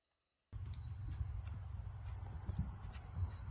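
A young event horse's hooves strike the ground in a steady clip-clop while it works through a free jump chute, the loud, close thuds running continuously with a few heavier landing impacts.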